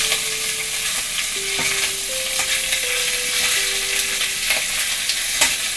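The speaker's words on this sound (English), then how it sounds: "I'm going to put this lid back on because it's really splattering" Chicken curry with potatoes frying in a pan, a steady loud sizzle with bursts of splattering and occasional stirring scrapes, continuous throughout with no talking.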